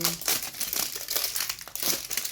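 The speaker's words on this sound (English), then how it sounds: "And then this we can unwrap because it's going to" Plastic wrapping on a grocery item is pulled off, producing close, bursty crinkling and crumpling with short rustling bursts and brief pauses.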